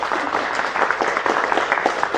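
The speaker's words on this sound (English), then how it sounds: "round of applause for the doctor here" A short burst of steady clapping from a crowd, dense and continuous for a couple of seconds.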